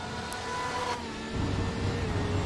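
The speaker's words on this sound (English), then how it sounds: "We are going on board with the Porsche." A Porsche GTE race car at Road America in the sim racing game iRacing is heard from onboard, its engine tone shifting and then dropping into a deeper, rougher drone, loud and close.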